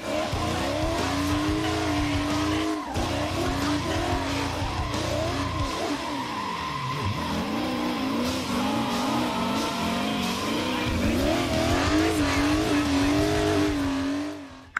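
A BMW E38 740i drifting in a racing video game, engine revving and falling with long continuous tire squeal, loud and steady throughout, no voices.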